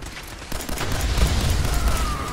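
Pistol gunfire in the video game Fallout 4 during a fight with a synth, heard as a steady run of muffled shots and rumbling booms over continuous game noise, with no clear separate single reports.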